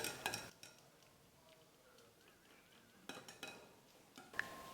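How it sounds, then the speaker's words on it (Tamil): Spoon mixing eggless cake batter with vanilla essence in a bowl, heard as faint, scattered scrapes and light clinks against the bowl, including a few sharper taps. "எசன்ஸையும் சேர்த்துட்டு நல்லா கலந்து கொடுத்துக்கிறேன்."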